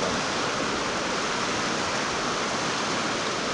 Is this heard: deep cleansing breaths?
no